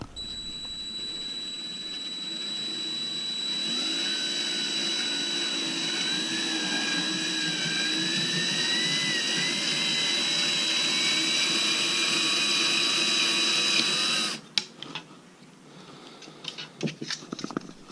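A power drill bores a cable hole through a Honda Goldwing exhaust heat shield, a loud sustained whine lasting about eleven seconds before stopping abruptly, followed by a few faint clatters and handling noises.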